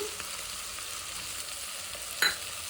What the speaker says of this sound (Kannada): ನೋಡಿ ಚೆನ್ನಾಗಿ ಕಾಳೆಲ್ಲ ಫ್ರೈ ಆಗಿದೆ.